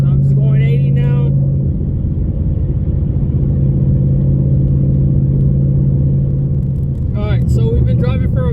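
A 2019 Ford Mustang cruising at 80 mph, heard from inside the cabin as a steady, loud low engine and road drone that holds constant throughout, with someone talking briefly at the start and again near the end.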